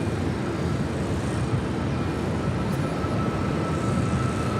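Airliner taking off at LAX, a steady broad engine roar heard from a distance with no other sounds.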